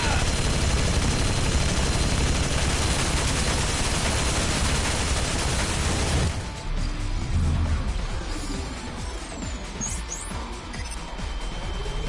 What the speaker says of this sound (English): Really? A Gatling gun?